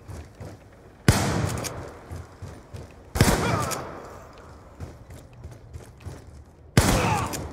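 Gunfire in a shooter video game, three sharp loud bursts with decaying tails spaced a few seconds apart, over a low background bed.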